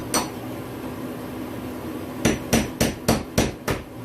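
One sharp metallic strike, then after a pause six rapid, evenly spaced hammer blows ringing on rusty metal during a fuel pump replacement, loud and close.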